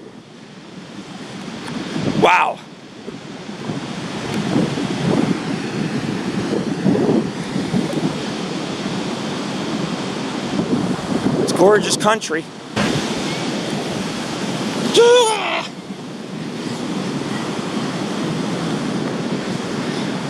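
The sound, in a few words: ocean waves at San Gregorio Beach, California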